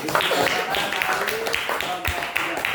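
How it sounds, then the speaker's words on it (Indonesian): Applause for a student group at a teacher-training performance test, steady clapping from a room of people mixed with chatter and voices throughout. "beri tepuk tangan untuk kelompok 3"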